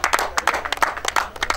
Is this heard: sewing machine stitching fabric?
no